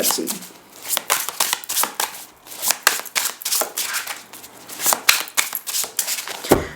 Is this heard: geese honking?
no